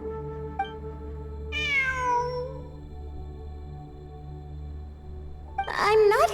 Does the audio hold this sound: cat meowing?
yes